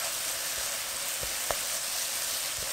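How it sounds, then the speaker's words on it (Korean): Chunjang black bean paste stir-fried with zucchini and king oyster mushrooms, a soft continuous sizzle punctuated by a few sharp spatula taps against the pan. "미리 볶아놓은 재료와 골고루 섞이도록 볶아줍니다."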